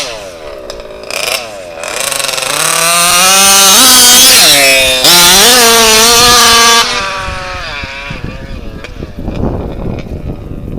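An HPI Baja RC car with an RCMAX 90 engine and a clutch revs loudly nearby, its buzzing pitch climbing and falling in several sharp rises before dropping back to a rough idle.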